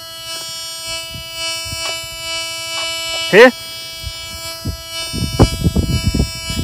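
A C.S 990B metal detector holds a steady, buzzing threshold tone throughout, with a brief warble breaking it over a buried target. Someone speaks briefly, and rustling and footsteps sound near the end.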